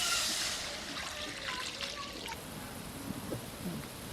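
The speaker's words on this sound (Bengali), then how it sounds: "এবার জল দিয়ে দিলাম।" Water is poured into frying masala for a fish curry, making a soft, faint trickling and splashing that fades into a low, steady simmering hiss.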